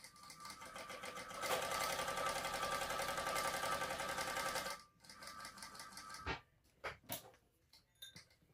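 A sewing machine runs steadily for about three seconds topstitching a handmade crossbody bag, its rapid needle chatter loud and even, then it stops and a few soft handling clicks and knocks follow.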